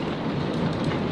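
Dense, steady rain falls hard in a severe thunderstorm, a continuous loud hiss of drops on surfaces with no break over a brief moment.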